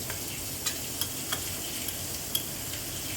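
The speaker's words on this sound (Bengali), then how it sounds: "আবারও কিছু সময় নেড়ে চেড়ে নিলাম।" Drumstick leaves and potatoes sizzle steadily in a frying pan while a spatula stirs them, with a few light scraping clicks scattered through the continuous hiss.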